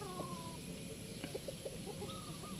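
Chickens cluck softly in short, scattered calls at a gamefowl farm in Padre Garcia, Batangas, faint against a constant hum of background noise.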